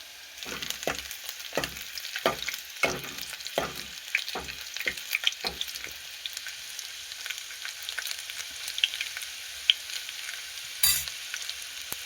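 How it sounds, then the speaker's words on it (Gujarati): Garlic cloves fry in hot oil with a light sizzle while a spoon stirs and scrapes the pan in a run of rhythmic strokes, then quieter occasional crackles, all close with no talking. "હવે એને આપણે થોડીક કળીઓ તળાવવા દઈ, પછી આપણે ભાજી નાખશું."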